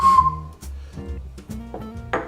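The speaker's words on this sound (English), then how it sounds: "this is an ocarina made in the musical clay" A clay ocarina made in a musical clay class gives a few short whistle-like tones, first a steady pure note and then brief breathy phrases, close and fairly loud with no talking.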